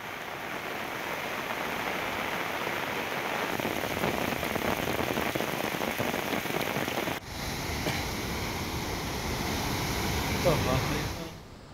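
Heavy monsoon rain pours down steadily and densely, a loud, unbroken hiss of drops striking surfaces, with a brief dip partway through before it carries on as strongly as before.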